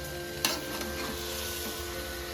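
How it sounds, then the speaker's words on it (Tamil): Tomatoes, tamarind and coarse salt sautéing in a pan for Tamil tomato thokku, a steady close sizzle with one sharp scrape of the spoon early on and faint stirring afterward. "நல்லா வதங்கி அந்த மாய்ஸ்சர் எல்லாம் வெளியில வரட்டும்."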